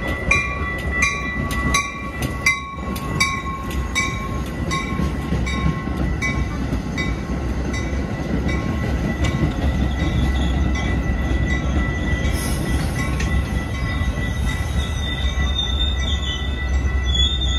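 A Metra commuter train arrives at Franklin Park station, rumbling loudly and steadily with sustained high-pitched wheel squeal as it rolls in and brakes close by.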